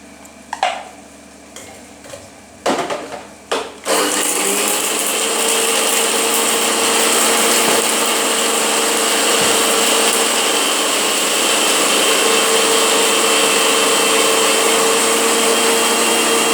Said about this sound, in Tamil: இப்போ ஒரு நிமிஷம் தேங்காய் அரைச்சி அதில் போட்டுறேன்